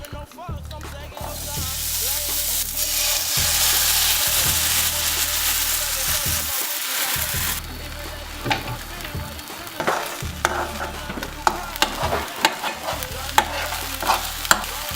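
Just Egg plant-based vegan egg scrambling in a pan: a loud, steady sizzle at first, giving way to a quieter frying hiss broken by scraping and stirring clicks, with no talk.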